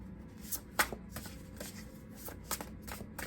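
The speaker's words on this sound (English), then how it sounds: "I don't know why I'm shuffling this again." Tarot cards are shuffled by hand in soft riffling bursts with a few sharper snaps, quiet and close, without any voices.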